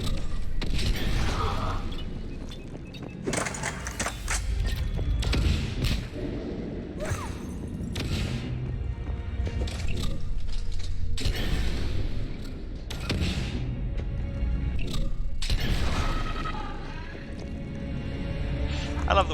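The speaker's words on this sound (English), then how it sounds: "The explosion still has them" Mass Effect 3 combat with explosions in a galaxy-wide bar fight, heavy booming thuds and bursts recurring across the clip over a dense, loud battle din, with voices talking throughout.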